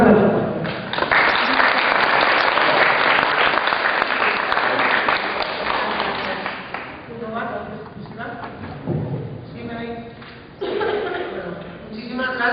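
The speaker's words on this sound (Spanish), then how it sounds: "Un aplauso." Audience applause greets a woman lecturer at a library and archive science academic talk, loud and sustained for about six seconds, then tapering into scattered claps and crowd murmur before picking up briefly again.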